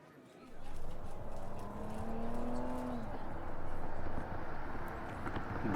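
A car pulls away and drives off in a Telugu audio story, a steady engine rumble rising and holding for several seconds as the vehicle departs, with background music tones underneath.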